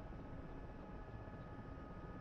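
Helicopter running during a crew rearming session, a dense, continuous broadband engine and rotor roar heard steadily at low level, without talk.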